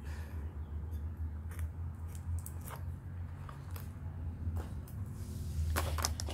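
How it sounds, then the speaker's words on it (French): Scissors cut paper for a scrapbooking album, producing a series of short, crisp snips at irregular intervals over a low background hum. "on vient couper."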